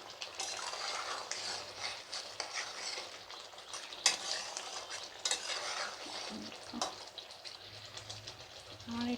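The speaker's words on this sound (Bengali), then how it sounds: "ভালো করে নাড়াচাড়া করে নিলাম।" Jackfruit and potato curry being stirred in a pan, a steady sizzle with repeated clinks and scrapes of the spoon against metal, fairly faint and continuous.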